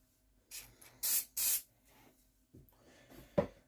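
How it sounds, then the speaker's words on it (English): Two short aerosol spray bursts in quick succession, hissing loudly up close, followed by a softer sputtering spritz a moment later. "remember to spray the room"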